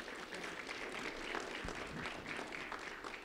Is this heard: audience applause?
yes